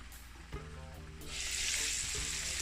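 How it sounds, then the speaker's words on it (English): Jamaican fried chicken pieces frying in oil under a lid, street-food style, give a steady close hiss of sizzling that swells louder partway through, with a few faint knocks early on. "once you see the frying kind of subside"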